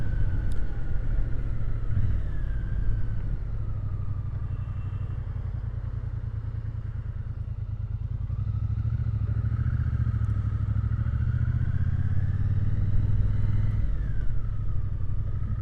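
A Triumph Bonneville T120 motorcycle ridden on a road in the early evening, its engine a loud, continuous low rumble with gentle rises and falls in pitch as it changes speed, heard up close without any voices.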